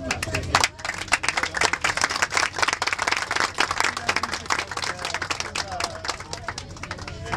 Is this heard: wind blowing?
no